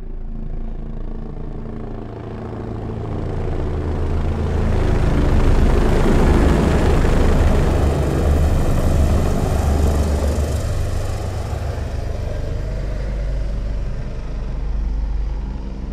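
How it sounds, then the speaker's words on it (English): Helicopters in a surround-sound cinema demo effect swell from a low, distant rumble into a loud, broad whirring roar overhead, then gradually fade, with no voices. "helicopters will slowly creep up from the back of the theater. Close your eyes and feel them fly overhead."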